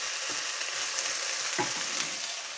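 Ratatouille vegetables stirred around a hot pan give a steady close sizzle, with a couple of soft scraping stirs breaking through the constant hiss.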